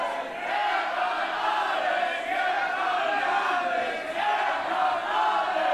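Wrestling crowd at a GWF Showdown show in 2022, a sustained wash of cheering and shouting from the arena audience, steady and fairly loud throughout.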